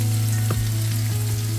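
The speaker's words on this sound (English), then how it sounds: "I am just going to be frying some onions until they are dark brown." Onions fry in a Chef IQ cooker with a loud, steady, close sizzle and crackle throughout, with no voices.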